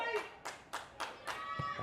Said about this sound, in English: you're starting to hear the crowd for the Strikers get a little bit louder here